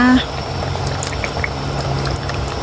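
Liquid bubbles at a rolling boil in a wok, a close, continuous burbling wash with small pops scattered throughout, following a short sharp clink at the start.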